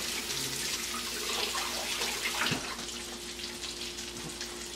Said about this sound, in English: Let me wash my hands up real quick.